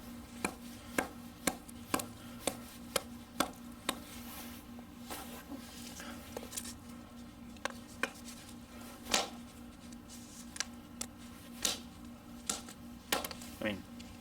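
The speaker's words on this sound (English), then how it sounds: "this is a good half-inch piece of wood, and it's chopping straight through it" A Terävä Jääkäripuukko 140 knife chops through a half-inch piece of wood in a series of sharp, irregular, close knocks over a steady low hum, with someone talking in between.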